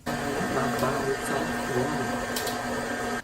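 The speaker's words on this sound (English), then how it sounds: "Beat the butter on medium-high speed until light and fluffy." Stand mixer beating butter at medium-high speed for chocolate cake, a steady, moderate motor hum with a rhythmic churning texture and faint clicks, running throughout the short stretch.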